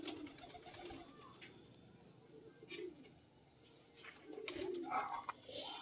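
Soft, low pigeon coos come in short bursts, close by, with faint rustling and background noise between calls.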